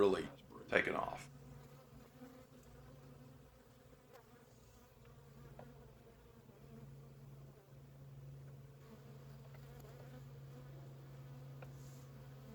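Honeybees swarm around an open hive during an inspection, making a faint, steady buzzing hum, with a brief louder burst near the start and someone speaking quietly over it.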